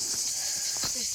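Cicadas shrill loudly along a dry riverbed, a continuous high dense whine over the whole moment, with faint rustling and footstep-like sounds beneath it.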